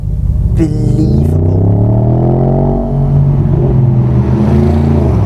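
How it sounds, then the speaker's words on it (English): A Morgan Aero Coupe V8 revs hard and then holds a deep, sonorous rising roar that echoes off surrounding buildings, loud and close, with a brief dip before climbing again. "you get the noise of this beautiful sonorous V8 bouncing off every building."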